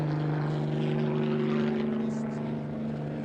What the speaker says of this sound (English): One helicopter now is in real low.